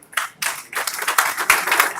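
An audience claps at a poetry recital, bursts of fairly close handclaps starting, pausing briefly, then building into steadier mixed clapping.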